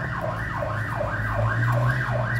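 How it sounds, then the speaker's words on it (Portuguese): An ambulance siren wails in a loud, regular up-and-down cycle, about five sweeps in quick succession, over a low vehicle rumble, close by and with no talk. "Tá vendo a ambulância confirmando?"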